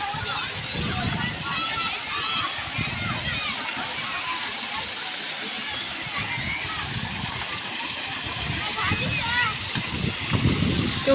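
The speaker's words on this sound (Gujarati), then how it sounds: "આમાં પાણી ચાલુ થઈ ગયું છે જો." Water splashes and gurgles steadily into a clear resort pool in Porbandar, with people talking nearby and a voice over the flowing sound.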